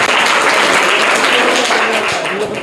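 Loud applause from a crowd of schoolchildren for a student at a quiz competition, a dense, steady burst of clapping close by that lasts about three seconds.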